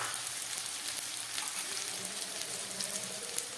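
Chopped onion and grated ginger frying in a pan for a Poush Sankranti pitha recipe, a steady close sizzle with crackling spatters that continues evenly throughout, with no talking.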